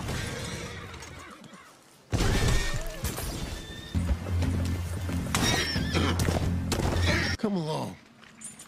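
A horse in Red Dead Redemption 2 whinnies and snorts amid clip-clopping hooves and a crashing impact, loud and close, with game voices talking over parts of it.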